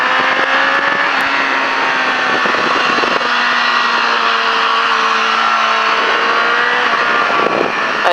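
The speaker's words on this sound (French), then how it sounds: "là tu relèves la moto et t'accélères" A motorcycle engine on a training riding course at La Ferté-Gaucher drones loud and close, holding steady tones that rise as the bike accelerates, with no talk.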